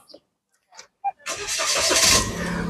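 Daihatsu Rocky 1.0 turbo car engine cranking and firing up, a few short starter bursts giving way to a steady, loud running roar close by; brief talk comes just before it.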